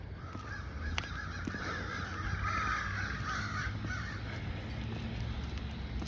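Crows cawing outdoors at a distance under a steady, noisy background rumble, with calls faint and partly blended into the ambient hum.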